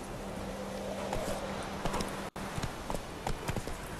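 Horse hooves clip-clop steadily in The Witcher 3, an even run of close, distinct hoof strikes with a low hum underneath and a brief dropout partway through.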